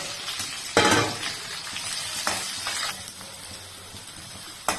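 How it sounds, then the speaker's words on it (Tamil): Onions sautéing in a pan for tamarind upma, a steady close sizzle with scraping stirs and a loud burst near the start, no voices. "வெங்காயத்தை போட்டு நல்லா வதக்கி கொஞ்சம் கலர் மாறுற அளவுக்கு ஒரு பொன்னிறமாக சிவக்கிற அளவுக்கு நம்ம வெங்காயத்தை வதக்கிக்கலாம்"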